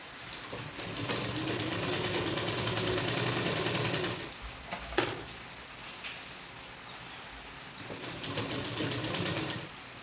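A sewing machine stitches a V-shape blouse with a close, steady rapid whirring hum, pausing briefly midway with a few clicks before running on again for several more seconds.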